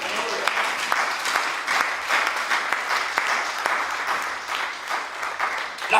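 A church congregation in Paris applauds in a steady, dense wash of clapping with scattered cheers, sustained at an even level throughout.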